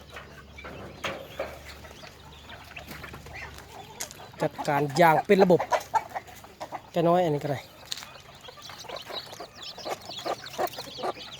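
Laying hens kept near ducklings give a few loud clucking bursts in the middle, with quieter scattered calls before and after and someone talking intermittently throughout.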